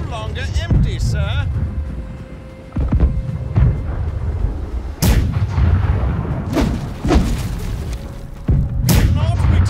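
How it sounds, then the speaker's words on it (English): Ship cannons fire in the naval video game Blackwake, about six heavy booms spaced a second or two apart over a constant wind and water rumble, with players talking in between. "Left side cannons, ready up."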